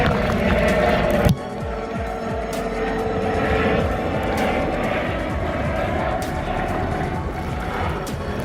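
A helicopter flies overhead behind a kayaker paddling near Blake Island, Washington, producing a loud, steady engine drone that holds throughout and shifts in tone just after the first second.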